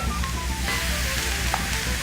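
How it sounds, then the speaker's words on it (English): Steady crackling sizzle of watermelon slices searing on a hot grill, continuous and close, with a few brief pops rising above the hiss. "You hear that really nice sizzling sound."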